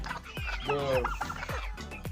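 A laying hen clucks close by in a series of short, throaty, repeated calls with a few higher squawks, loud and clear with no talking over it.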